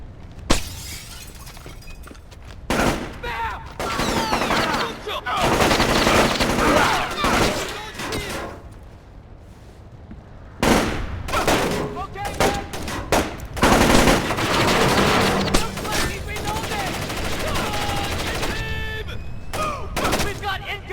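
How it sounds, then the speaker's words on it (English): Enemy gunfire in Tom Clancy's Splinter Cell Chaos Theory on Xbox, loud bursts of automatic fire and single shots mixed with shattering glass, coming in clustered volleys with short pauses between them, while voices shout over the action. "We've got incoming shots!"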